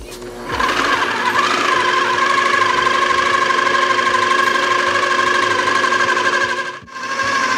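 Vegetable shortening whipped in a food processor: a loud, close, continuous motor whir with a rattling hum that holds steady for several seconds, dipping briefly before the end.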